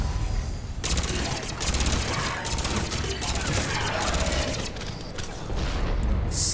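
Rapid bursts of incendiary-ammo gunfire in the video game Mass Effect 3, loud and close, with repeated shots, crashes and mechanical clatter in a dense barrage that runs almost continuously after a quiet first second.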